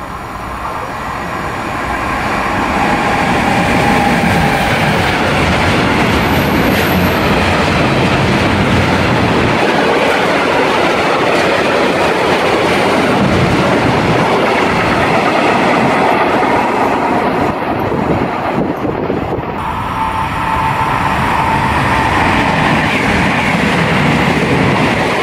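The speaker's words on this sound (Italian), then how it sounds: "Attenzione, treno in transito al binario 2." A train rumbles steadily through Pregnana Milanese station on platform 2 without stopping, wheels clattering on the rails for the full length, loud and close, with a faint high squeal partway through.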